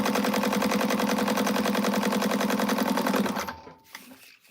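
A sewing machine topstitches at high speed in a long, steady, loud whirring run lasting several seconds before stopping abruptly, leaving faint handling sounds.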